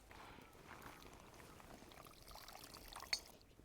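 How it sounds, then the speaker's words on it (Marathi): Cooking oil pours into a pan for a wild vegetable dish as a faint, soft, steady liquid trickle, close and quiet, ending with a small clink. "आपण आता भाजीसाठी तेल टाकून घेऊ"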